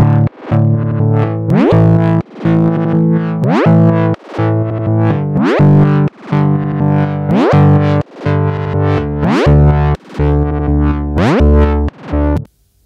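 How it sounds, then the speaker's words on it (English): Logic Pro's Beat Breaker effect slicing pads, chords and a beat into loud, stuttering fragments with repeated pitch swoops and abrupt cuts, running steadily for about twelve seconds before stopping. "now let's look at some examples how it sounds on different material like pads,"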